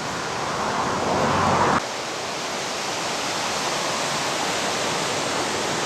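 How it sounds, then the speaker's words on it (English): A creek flows steadily as a broad, constant rush of water, with a louder wind-like surge in the first seconds that drops off abruptly; no one speaks. "Now this creek right here that you can see"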